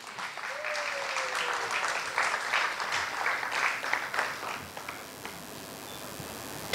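An audience at a youth debate competition applauds the runner-up team, with dense, sustained clapping from a hall crowd that fades toward the end.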